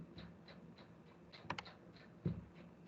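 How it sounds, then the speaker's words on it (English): Computer mouse clicks while opening an article title on a scholarly e-journal site, a few soft taps spread out, then a sharper pair of clicks and one louder click, close and quiet. "I'm randomly clicking any article title"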